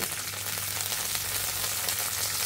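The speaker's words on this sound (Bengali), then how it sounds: "এখানে আমরা কিশমিশটা ঘিতে ভেজে নেব" Raisins frying in about a teaspoon of ghee in a pan, a steady soft sizzle with faint crackle running close and even throughout, no voices.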